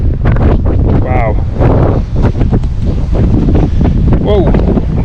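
Strong wind buffets the microphone atop Tinker's Cliffs on the Appalachian Trail, a loud continuous roaring rumble with gusts, while a person talks over it.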